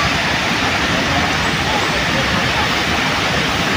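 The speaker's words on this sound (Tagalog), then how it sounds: "Tapos yung pagbagsak ng tubig dyan, pwede din kayo maligo dyan kasi medyo may lalim din." Water from a water park slide pours and splashes into a deep pool in a steady, loud broadband rush, constant throughout with no pauses.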